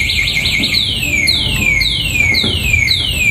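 A vehicle anti-theft alarm on a four-wheel unit sounds loud and close, repeating falling electronic siren sweeps in a steady rhythm with no voices.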